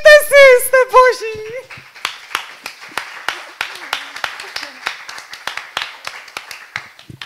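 A first burst of high voiced sound, then a crowd's scattered claps and taps, uneven and a bit sparse, continuing for several seconds.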